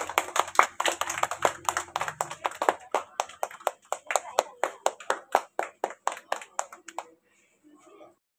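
A school class claps hands together at a Teachers' Day celebration, about twenty sharp, evenly spaced claps in a steady unison rhythm that stop abruptly, followed by near silence.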